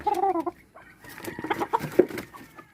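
A blind chicken clucks close by in short, irregular bursts, with brief pauses between calls.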